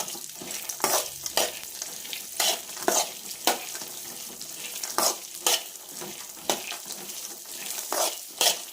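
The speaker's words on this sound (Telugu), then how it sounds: "తరువాత ఇందులో జీడిపప్పు కూడా వేసుకోవాలి. బాగా కలుపుతూ మిక్స్ చేస్తూ ఫ్రై చేసుకోవాలి." Cashews stirred and fried in a pan for dry fruit laddu give a steady run of spaced scraping strokes, roughly one a second, over a soft sizzle, close and fairly clear.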